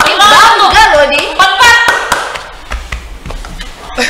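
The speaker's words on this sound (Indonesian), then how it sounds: "Tepuk tangan." An audience claps during a talk-show podcast segment, a burst of applause coming in over lively chatter at the start, then thinner, scattered claps continuing under voices.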